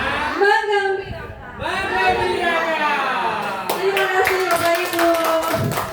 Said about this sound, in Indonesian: Sekali lagi tepuk tangan untuk